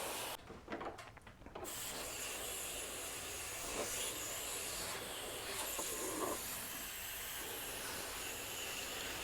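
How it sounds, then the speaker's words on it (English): A water spray hisses steadily as it rinses debris from a split AC condenser coil, a broad, continuous rushing spray that holds at an even level after a brief uneven start. "let's give it a final rinse to clear off all the debris that's collected in here"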